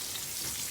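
Turmeric stirred into a hot frying pan while cooking vegetarian fish sambal, giving a soft, continuous sizzle that lasts under a second.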